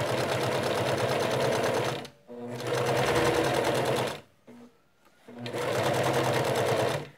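Sewing machine stitching a white zipper into fabric, running in three steady bursts of fast, loud mechanical whirring with short pauses between, no voices.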